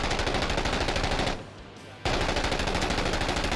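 A machine gun in the video game Six Days in Fallujah fires rapid, sustained bursts of loud, close rounds. There is a short break in the middle, then the firing starts again.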